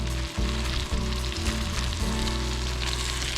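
Bacon and tomatoes sizzling loudly in a pan over a camp stove at a Colorado campsite, a dense continuous frying hiss with occasional scraping and stirring knocks.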